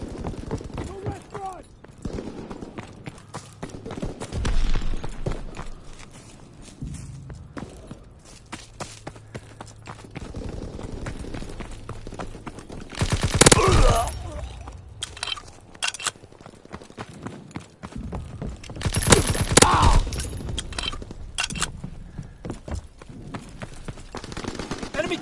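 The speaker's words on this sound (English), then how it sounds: "Taking heavy fire!" Heavy gunfire in Call of Duty WW2 multiplayer: rapid, crackling shots and bursts run throughout, with louder clusters of fire standing out now and then, and voices are heard over the din.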